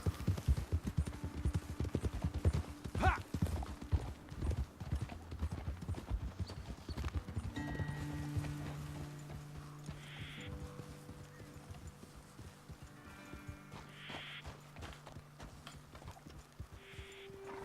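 Horse hooves clip-clop steadily at a walking pace in Red Dead Redemption 2, fairly close, with a soft musical hum and tones rising in the background.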